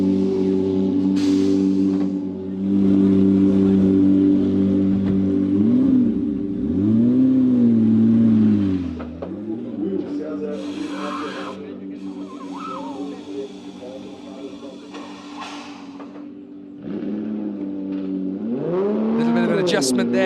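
Race car engines in qualifying at Velocitta, running on new tyres out onto the circuit, drone steadily and rise and fall in pitch as they rev, loud throughout, with commentary over them.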